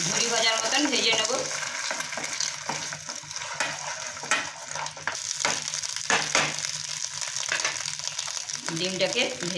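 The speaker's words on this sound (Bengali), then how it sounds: "এটাকে আমি ঝুরি ভাজার মতন ভেজে নেব।" Beaten egg with salt fries in hot oil in a pan while being scrambled, giving a loud, steady sizzle throughout with repeated scraping stirs, close up and mostly without voices.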